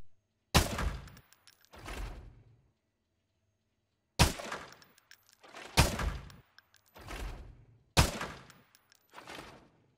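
Gunshots in the shooter game Arena Breakout come in close, loud pairs of sharp cracks, each followed by a softer thud, repeated several times with silent gaps between them.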